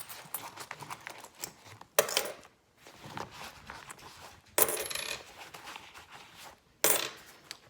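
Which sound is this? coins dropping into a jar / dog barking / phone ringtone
coins dropping into a jar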